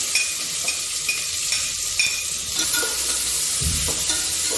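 Chopped onion, green chili and curry leaves frying in oil in a cooker with split chickpeas, a steady close sizzle broken by light stirring clinks.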